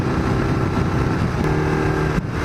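A custom Yamaha XJ600 motorcycle hums along at steady cruising speed, its engine drone running continuously beneath wind rush, with a brief shift in tone near the end.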